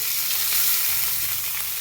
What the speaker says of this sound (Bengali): এবার আমি উচ্ছে আলুটা দিয়ে দিলাম।